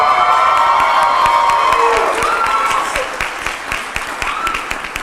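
A crowd at a school district address applauds and cheers loudly, with scattered whoops over steady clapping that eases off somewhat toward the end.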